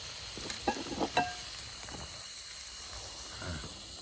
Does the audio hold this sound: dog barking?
no